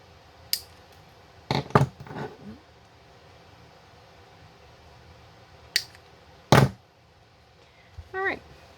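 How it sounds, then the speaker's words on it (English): Scissors trim the end of a zip tie while a willow bow is assembled, giving a few sharp close snips and clicks spread across a quiet stretch, with brief bits of talk. "trim my zip tie."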